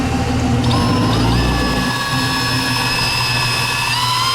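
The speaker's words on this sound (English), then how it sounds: "he will then go get his drill with the paddle on it" A power drill with a mixing paddle whines steadily at high speed, with a brief deeper churning at the start as it stirs two-part pebblestone flooring mix.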